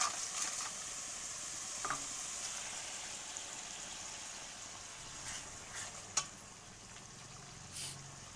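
Spice paste of turmeric, cumin powder and Kharagpur masala frying in a pan, a faint, steady sizzle with a few soft stirring clicks and scrapes, no voices.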